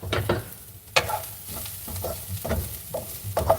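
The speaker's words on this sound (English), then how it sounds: "are these onions looking caramelized enough?" Onions fry in a pan, sizzling softly as they are stirred, with the spoon scraping in short irregular strokes and one sharper clink near the start.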